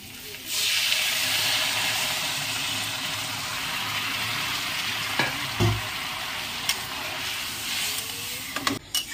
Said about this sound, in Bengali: এইবারে গরম জল বসিয়েছিলাম, গরম জলটা আমি দিয়ে দেবো।